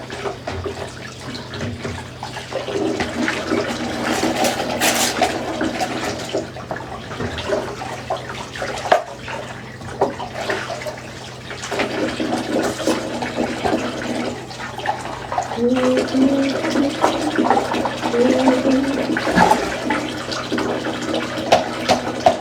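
Dishes are washed in a motel bathtub: water runs and splashes continuously at moderate level, with intermittent knocks and clinks of handled items rising and falling throughout.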